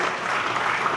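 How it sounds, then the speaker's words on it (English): Continuous crowd clapping at a student conference as a team takes the stage, a brief burst of thick, even applause with no break. "Let's continue to clap for them."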